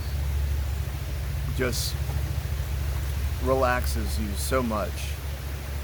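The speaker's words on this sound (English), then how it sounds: "The sound of rushing water" Rushing water from a mountain stream on Waterrock Knob, a steady wash of noise with a low hum underneath, while a person talks over it in short phrases.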